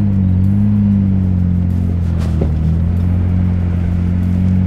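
A Nissan R32 GTR runs on the road, its engine giving a loud, steady low drone and rumble from inside the car, with a brief shift in pitch midway and no talking.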